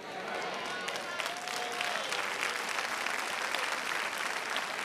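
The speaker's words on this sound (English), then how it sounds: "Oh, I don't preach for hand claps." Audience hand claps ring out through a church during a sermon on hip hop, a dense, steady wash of clapping that holds at a moderate level throughout, with a brief tonal voice-like sweep partway in.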